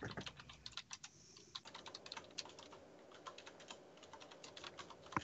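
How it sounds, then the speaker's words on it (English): Rapid typing on a computer keyboard during a tabletop Star Wars roleplaying game session, an irregular stream of close, light key clicks continuing steadily throughout with no talk. "She's typing this down."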